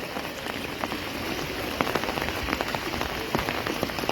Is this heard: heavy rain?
yes